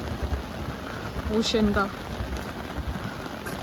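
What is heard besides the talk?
heavy rain at the Atlantic Wall on the Belgian coast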